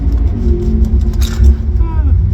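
A stick-shift drag car with a junkyard LS engine runs with a throaty, droning engine tone that rises and dips slightly, close by, while people talk over it.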